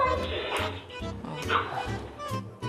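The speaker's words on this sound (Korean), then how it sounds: "저희 이제 낑낑거리기 시작했습니다." A puppy with separation anxiety whimpers and yips indoors, left alone at home behind a closed door; short whiny cries and small barks come in bursts, fairly close and quiet.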